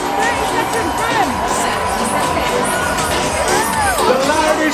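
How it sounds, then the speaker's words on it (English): A large outdoor crowd cheering and shouting at the Coventry Christmas light switch-on, a loud sustained roar with children's voices rising and falling and an amplified host calling over it. "The loudest cheer! We want everybody to hear!"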